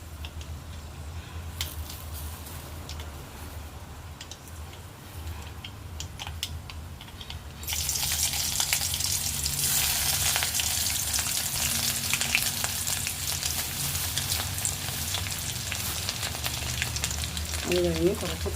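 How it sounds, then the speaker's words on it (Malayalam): Garlic and ginger go into hot oil with already-spluttered mustard seeds, giving a continuous close sizzle that jumps noticeably louder and brighter about halfway through. "കടുക് പൊട്ടിയിട്ട് അടുത്ത് നമ്മൾ വെളുത്തുള്ളിയും ഇഞ്ചിയും ചേർക്കാൻ പോവുകയാണ്."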